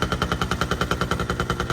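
Kawasaki Brutus 140 motorcycle idling with a Tanay aftermarket silencer, giving a steady, rapid, evenly spaced popping exhaust beat at close range with no talk.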